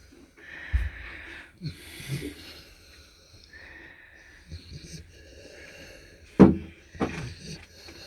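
Heavy, wheezy breathing and snorting from a Doberman, irregular puffs and sniffs with a couple of sharp knocks and faint background voices.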